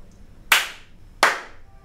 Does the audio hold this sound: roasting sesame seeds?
no